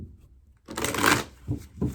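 A deck of angel cards being shuffled close by, a quiet rustle followed by a louder riffle and two short card flicks, no talking.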